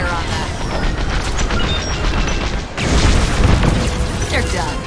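Starfighter laser cannons and explosions in the Star Wars Squadrons space combat game, a loud, continuous barrage of booming blasts and crackling fire with a heavier burst near the middle.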